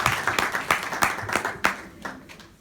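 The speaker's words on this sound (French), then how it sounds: "j'aimerais aussi qu'il y ait une main d'applaudissement pour la SOCAM" Audience applause at a talk, with distinct, fairly sparse claps in an uneven rhythm that thin out and fade over a couple of seconds, close by, without talk.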